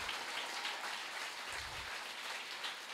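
Congregation clapping hands during a joint church service, a steady, fairly quiet wash of many hands with no talk over it.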